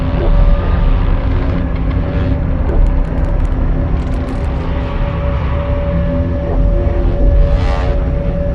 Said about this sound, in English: The sound you're hearing is a light black hole banging